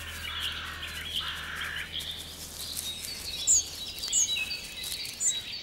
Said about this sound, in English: It's often starlings who fly in to mop up after the harvest.